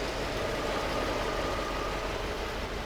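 A classic Mercedes car engine idles with a steady, even, close rumble throughout, with no voices over it.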